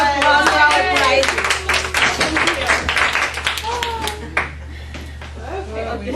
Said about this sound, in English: we should give a round of applause to our prize